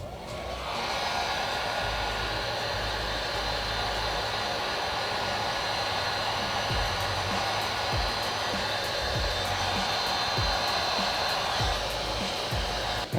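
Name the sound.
heat gun post-heating a vinyl wrap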